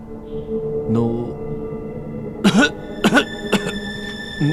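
Several short, harsh coughs in quick succession near the end, close by, following a brief vocal sound over a low musical background.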